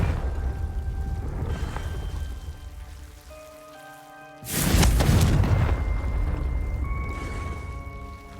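A Confringo spell explodes in Hogwarts Legacy with one sudden loud burst midway, followed by a rushing rumble that fades slowly over sustained musical tones and a steady ambient hiss.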